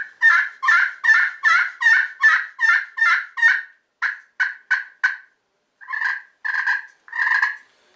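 A friction turkey call worked with a striker, giving a run of loud, rhythmic yelps that break into shorter clucks and a few final yelps, crisp and close with no other sound.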